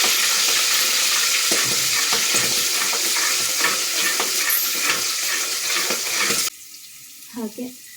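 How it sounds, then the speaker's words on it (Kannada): Peas frying in oil after onions in a village-style methi pulao pan, a loud continuous sizzle with stirring scrapes for several seconds, then cutting out to near quiet with a brief faint clatter at the end. "ಬಟಾಣಿ ಹಾಕಿದ್ದೀನಿ ಈಗ ಎಣ್ಣೆಗೆ."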